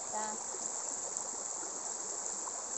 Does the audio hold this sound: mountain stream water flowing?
yes